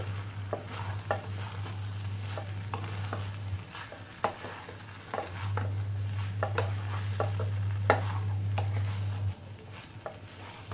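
Rice being stirred and mixed in a frying pan while making omurice, with repeated scraping and tapping strokes over a steady low hum, close and moderately loud, without talk.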